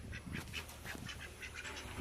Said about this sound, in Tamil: வாத்து நல்லா சாப்பிடுது தீனி